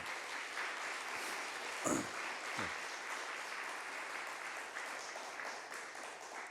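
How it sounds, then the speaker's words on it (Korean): A Korean church congregation applauding to welcome visitors at a worship service, steady moderately distant clapping from many hands sustained throughout, with a couple of brief louder sounds. "우리 함께 박수로 환영하도록 하겠습니다"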